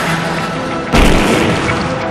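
A massive medieval bombard, 8.2 m long and over 19 tons, lets off a single loud booming blast about a second in, with a rumbling tail that lingers afterward and no voices present.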